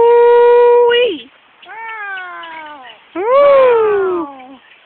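A pet parrot imitates a cat's meow in long, loud, wailing cries close to the listener, with a steady held note, a shorter wavering meow, then another drawn-out falling call.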